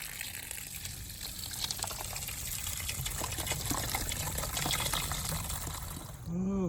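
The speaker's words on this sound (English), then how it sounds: "I'll get it from the spigot right there." Water runs from an outdoor spigot at a church in a steady, close gushing splash that holds level throughout, then cuts off near the end.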